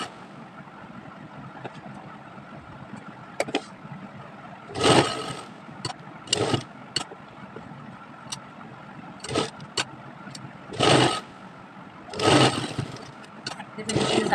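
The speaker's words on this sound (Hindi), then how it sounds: "पट्टी को ऊपर करते हुए सिलाई लगा लेंगे। यहाँ से अपनी सिलाई को डबल कर लेंगे।" A sewing machine stitches a fabric strip with lace for a child's kaftan top, running in short intermittent bursts separated by quiet pauses as the seam is sewn and doubled back.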